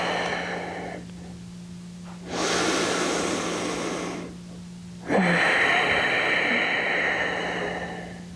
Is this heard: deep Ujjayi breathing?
yes